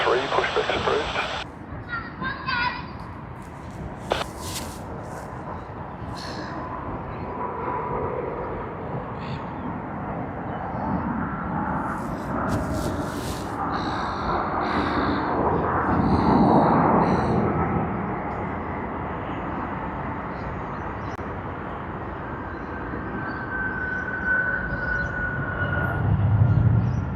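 Aircraft thrust reversers roar at Sydney Airport, a broad rumbling jet noise that swells and fades over a long stretch, heard at a distance with radio chatter and talk over it.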